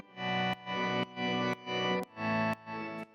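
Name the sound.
distorted organ synth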